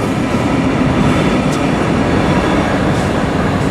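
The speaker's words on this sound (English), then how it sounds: "you hear the train behind" Loud, close rumble of a Brightline passenger train rushing past at Hillsborough Boulevard, Deerfield Beach, dense steady rolling noise with wheel clatter, no talking.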